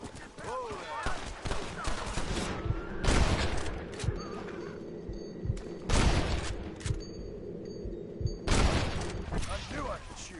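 Gunfire in a cowboy-themed Western video game: several loud, sharp shots at irregular intervals, with game noise and faint voices underneath.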